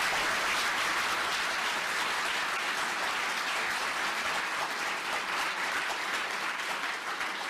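Sustained audience applause at a university talk, a dense, steady wash of clapping from a large crowd that holds strong throughout with no voices standing out.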